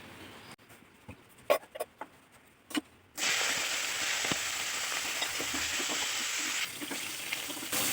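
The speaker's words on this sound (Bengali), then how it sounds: "মাছের মাথাটা খুব ভালো করে ভেজে নিয়েছি" Fish heads fry in mustard oil in a wok: a few sharp spits and clicks over near-silence, then a loud, dense, steady sizzle bursts in and continues close up to the end.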